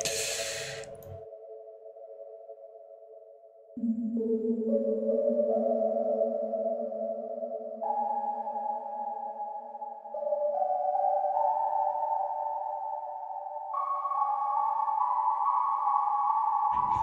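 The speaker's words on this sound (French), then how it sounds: "Il faut juste que je garde l'espèce de sonar là." Sustained electronic synth tones ping and hum like sonar, stepping upward in pitch through a series of held notes after a brief noisy burst.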